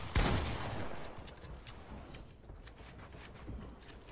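Shotgun fire in a squad-based shooter video game: one loud, sharp blast opens, followed by a scatter of fainter distant shots and crackles over the next few seconds.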